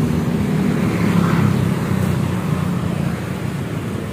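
A Honda PCX 160 scooter fitted with an aftermarket flat exhaust hums steadily at a low idle-like drone, a constant rumbling tone with light roadside background noise and no voices.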